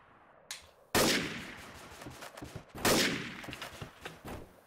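Bursts of rapid gunfire ring out in the online game Trouble in Terrorist Town, two loud volleys a couple of seconds apart, each followed by scattered single shots.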